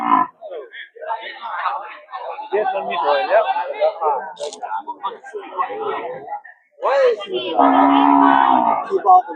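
Cattle and water buffalo at a livestock market, with a loud, drawn-out low moo near the end amid busy crowd chatter and people talking close by throughout.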